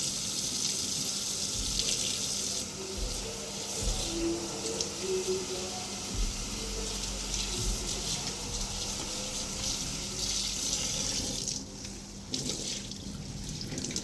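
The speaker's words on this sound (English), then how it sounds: "I may end up rinsing out some of the semi-permanent rinse from this" Tap water runs steadily into a sink while a semi-permanently dyed wig is rinsed, a continuous close hiss with splashing that shifts briefly near the end.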